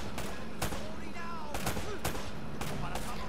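Gunfire in the Uncharted video game: several sharp shots ring out at uneven intervals over a dense, steady game soundtrack, with a few short bursts clustered close together.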